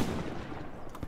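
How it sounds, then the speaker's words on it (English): Distant, muffled gunfire from the World War II shooter Hell Let Loose, a short rumbling stretch of shots blending into a washy battlefield din, with a couple of sharper reports near the end. "I'm just putting suppressing fire on him."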